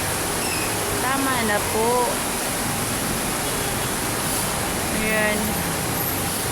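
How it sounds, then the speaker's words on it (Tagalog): Heavy rain pours steadily and loudly onto a car during a downpour, a dense unbroken roar throughout, while people talk briefly over it. "So, lakas-lakas. Lakas ng ulan."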